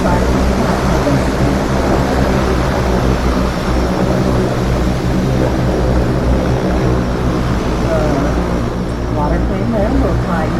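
A seaplane flies over Copenhagen harbour, its steady propeller drone filling the air continuously and fairly loud, mixed with boat engine rumble and wind.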